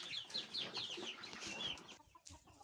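Hens in a coop cluck and chatter at their evening feed, several birds close by in quick overlapping bursts, with faint scratching between calls.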